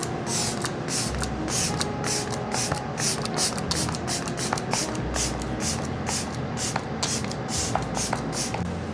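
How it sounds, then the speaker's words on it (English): Makeup setting spray misted repeatedly in a get-ready beauty routine, with about a dozen short, close hissing spritzes in quick, uneven succession. "I am a soaker when it comes to my setting spray"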